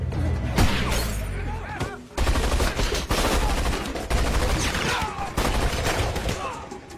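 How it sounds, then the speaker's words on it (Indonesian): Gunfire rings out in the crime film Boot Tracks (Boby Z) starring Paul Walker. Dense rapid shots and bursts sound loud and near, with shattering crashes and thuds throughout. "Ketika pertukaran sedang berlangsung, ternyata Agen Cruz ingin berniat membunuh si Tim. Saat Tim sedang berjalan, tak sengaja tiba-tiba Tim tersandung sehingga tembakan Agen Cruz meleset."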